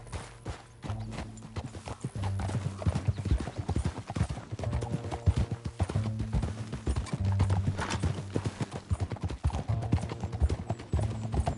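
Rapid, rhythmic hoofbeats of galloping horses in a PS4 video game, loud and close, with a horse whinnying among them and music-like tones underneath.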